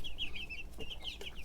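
Brahma chickens clucking in a cage, a run of soft, high clucks and chirps close by, repeated in short bursts over steady low background noise.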